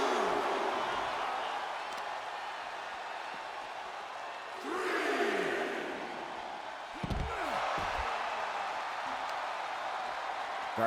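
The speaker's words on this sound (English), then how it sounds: "Gargano got the crowd hype" A wrestling arena crowd roars and cheers during a match, a broad sustained din that surges loudest around the middle, with a heavy slam-like thud near the end.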